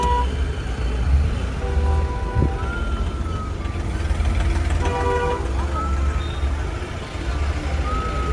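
Busy road traffic jam near Sangvi village with idling engines and a steady rumble, short horn toots and a reversing beep sounding now and then.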